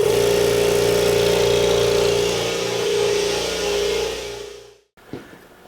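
A Kobalt 26-gallon electric air compressor running loud and close while filling its tank, a steady motor drone with a strong hum that cuts off abruptly near the end, followed by a brief clunk.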